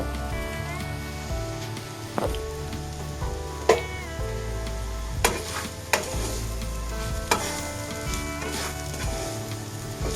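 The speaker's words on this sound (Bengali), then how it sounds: "এটা দিয়েও একটু ভালো করে নাড়ব" Semolina stirred and fried in a pan, with salt and sugar mixed in: a steady, close sizzle broken by repeated scraping clinks of the spoon against the pan, with no talking.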